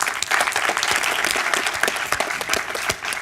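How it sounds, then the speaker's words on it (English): Conference audience at a startup panel discussion applauding, a dense burst of clapping from many hands that holds steady for a few seconds before starting to thin out. "so give Eli a quick round of applause"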